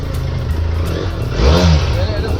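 A group of superbikes rolls out together, engines idling and then one revving sharply upward in a brief, close surge, with voices nearby.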